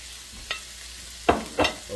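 Ground beef for a burrito goes into a pan, giving a few short, close sizzling bursts and stirring sounds over a faint, quiet frying background.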